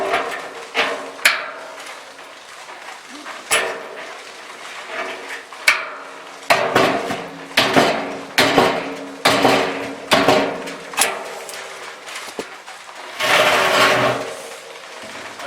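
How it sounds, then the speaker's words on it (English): A hammer strikes vise grips clamped on a barrel top in a workshop, giving a dozen or so sharp metallic knocks at uneven intervals, close and loud, with short pauses between blows. "So we put vice grip on there and give it a few knocks."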